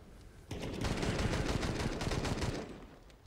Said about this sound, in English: Guns them all down. With the Famas,